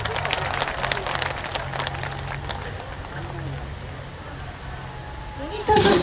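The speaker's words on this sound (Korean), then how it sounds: "박수 많이 쳐주세요." An audience at an outdoor trot music concert in Ulsan claps in a long, continuous patter at moderate distance, with a low hum underneath and a louder burst of sound near the end.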